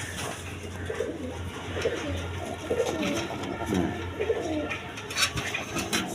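Gorra pigeons coo in soft, repeated, low rolling phrases, fairly near and steady against a constant background hum, several birds overlapping.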